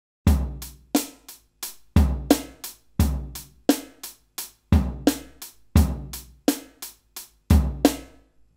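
A drum kit plays a steady groove with no ghost notes, close and crisp: sharp kick and snare hits repeat in a regular one-bar pattern about every second, with nothing else in the background.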